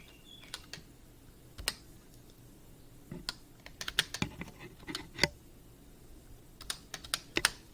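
Keys on a computer keyboard are tapped to enter a password: sparse, irregular clicks at first, then quicker clustered taps, close and crisp over a quiet room with no voice.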